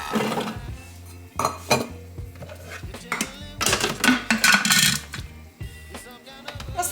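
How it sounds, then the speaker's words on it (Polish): Parsley, carrot and celery pieces drop into a Thermomix bowl with a series of close clattering knocks and clinks, irregular bursts against a faint low hum. "Czyli teraz wrzucamy pietruszkę, marchewkę i selerkę."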